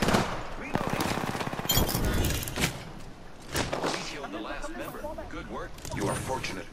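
Gunfire in the battle-royale shooter Apex Legends sounds in dense rapid bursts, snappy automatic shots mixed with impacts and game effects, with voices talking over the action.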